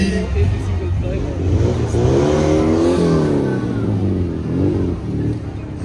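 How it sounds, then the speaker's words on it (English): Classic Austin Mini revving and driving past at a concours event on a racecourse, a rising and falling engine note held steadily through the moment with a commentator's voice talking over it. "it's followed by the Austin Mini KHR, entered as car number 20 by Mr. Lumo Murillo"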